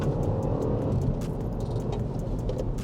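A 2020 BMW X1 in manual mode drops a gear and pulls hard, a steady loud engine rumble under road noise heard from inside the cabin.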